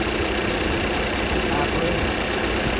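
A car engine idling with the AC compressor clutch engaged and spinning, a steady close mechanical hum and whir with a faint high whine running continuously.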